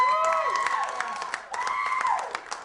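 An audience at a live comedy show in a bar responds with a burst of cheering, shouts and clapping, loud and close, with voices rising and falling in two waves.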